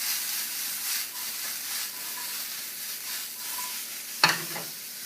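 Sautéed mushrooms and onions being stirred with sausage in a pan, a soft continuous sizzle with gentle scraping strokes and one sharp clack of the utensil near the end.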